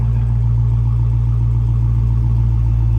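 A 2016 Dodge Challenger SRT Hellcat with its supercharged Hemi engine idles close by, a loud, deep, steady rumble with no change in pitch.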